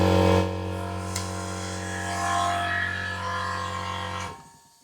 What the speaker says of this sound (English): That's the air compressor.